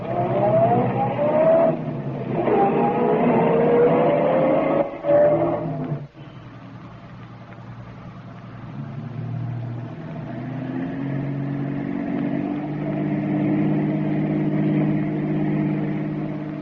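A taxi cab driving through heavy city traffic in an old radio drama, a steady droning car engine with shifting pitch that drops away then returns as a lower continuous rumble.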